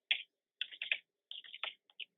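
Keys on a computer keyboard are tapped in short, irregular clusters of quick clicks, close and clear, with brief pauses between bursts and no talking.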